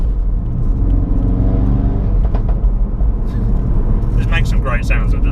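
A 400 bhp Ford Focus RS pulls away with a deep, loud engine rumble that builds steadily, heard from inside the car with a crackle near the end.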